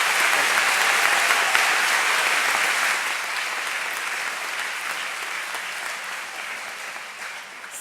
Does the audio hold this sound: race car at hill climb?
no